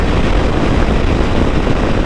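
A Royal Enfield Continental GT 650 motorcycle cruising on the highway at about 80 miles an hour near 5,400 RPM, heard as a loud, steady roar blended with heavy wind rush, continuous and unbroken.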